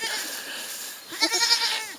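A goat bleats outdoors on a farm, a short wavering call near the end after a quieter stretch of ambient noise, fairly close and alone.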